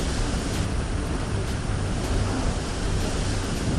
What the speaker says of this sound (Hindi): तेज हवा की इस आवाज को सुनिए।